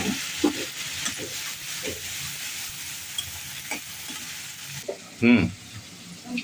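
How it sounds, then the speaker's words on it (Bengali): Shrimp frying in a pan with onion and dried chili sizzles with a steady hiss while a utensil stirs and scrapes in irregular bursts, with one louder clatter near the end. "এর মধ্যে যে চিংড়ি মাছগুলো দিয়ে দিচ্ছি, এর মধ্যে লবণ আর হলুদ দেবো"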